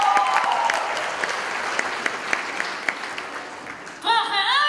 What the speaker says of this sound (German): Klatschen alle Frauen in die Hände,